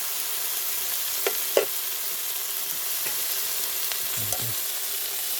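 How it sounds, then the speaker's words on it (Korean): Pork front leg meat grills over wood charcoal with a soft, steady hiss and a few faint pops and clicks, heard alone. "부친 거에다가 숯불에다가 지금 굽고 있어요"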